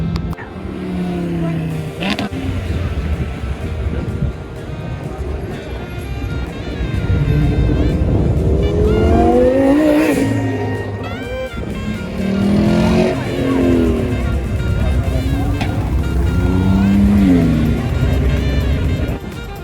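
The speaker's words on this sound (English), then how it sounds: "we're out here right now watching the cars take off from the show" Cars pull away from a car show one after another, engines revving and rising in pitch at varied distances, with outdoor crowd noise and voices underneath.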